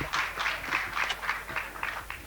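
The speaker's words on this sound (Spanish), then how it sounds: "Un fuerte aplauso para Lorena." Audience clapping for a speaker at a talk on reporting violence against animals, a dense, steady patter of many hands lasting a couple of seconds, moderately loud with no voices.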